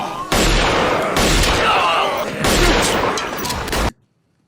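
Pistol gunfire from a movie shootout: a few loud, sharp bursts of shots spaced over several seconds, then the sound cuts off abruptly into silence.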